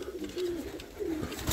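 A domestic racing pigeon coos close by in two drawn-out, throaty phrases with a short pause between them, and no voices.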